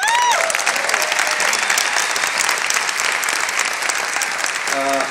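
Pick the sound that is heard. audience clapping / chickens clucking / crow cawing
audience clapping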